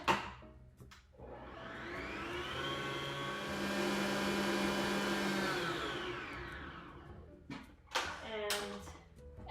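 A stand mixer beats spice cake batter, its motor whining up to a steady drone for several seconds, then winding down, with bumps and clatter around the bowl and a voice speaking nearby.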